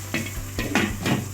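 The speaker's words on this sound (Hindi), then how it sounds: "ये हम अदरक लहसुन के साथ अपनी चिकन को भून रहे हैं" Chicken fried with ginger and garlic in a dhaba-style karahi is stirred, giving three or four loud scraping, rustling strokes over a light sizzle.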